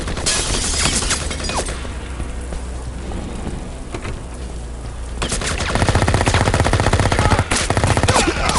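MP5 submachine gun in the video game Project IGI on a military airbase level, bursts of rapid automatic fire over a steady hiss, the last few seconds a dense, continuous rattle.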